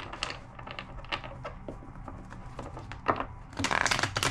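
Soft papery riffling and slapping of tarot cards being shuffled, a few quick bursts with a louder flurry near the end, close and fairly quiet.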